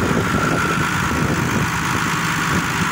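Close, steady idling from a 2019 Belarus tractor: an even, continuous diesel rumble with a constant low vibration throughout, heard outdoors in a village.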